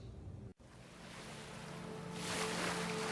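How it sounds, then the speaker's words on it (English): Ocean waves lap against a beach in a steady, soft wash that swells louder toward the end, with no voices. "watch the waves lapping up against the beach"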